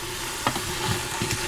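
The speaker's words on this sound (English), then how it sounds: "So we'll let that sizzle." Melted butter sizzles in the pot of an Instant Pot pressure cooker, a steady close frying hiss with a few soft stirring scrapes.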